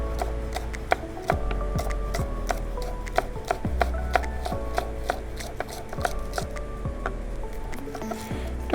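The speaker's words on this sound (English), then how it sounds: "And for the whites, I'm just gonna slice them thin." Steady rhythmic knife chops on a cutting board as green onion whites are sliced thin, close and clear, a fast even series of sharp taps with no talking.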